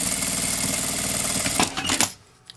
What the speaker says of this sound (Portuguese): passo uma costura pra segurar